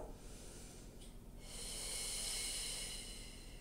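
A single breath taken during a Pilates roll-up: a soft, close airy hiss that swells after a brief pause and holds steady for a couple of seconds, alone without talk.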